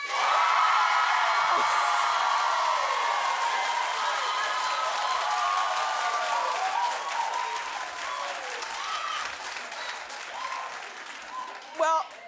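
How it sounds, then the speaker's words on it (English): Television talk show studio audience clapping loudly and continuously in response to a prompt, a dense wash of applause that slowly thins toward the end, with faint voices underneath. "If you don't want Nicki there, clap"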